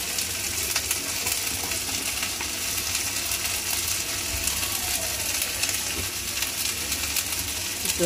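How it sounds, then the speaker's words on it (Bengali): Ginger paste, cumin paste and tomato go into a hot curry pan, bringing a steady close sizzle and frying hiss with faint scraping stirs throughout, no voices. "আদা বাটা দিয়ে দিচ্ছি, জিরা বাটা দিয়ে দিচ্ছি, টমেটো দিয়ে দিচ্ছি।"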